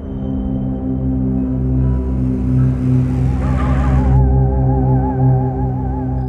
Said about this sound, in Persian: یه ماشین نزدیک ما میشه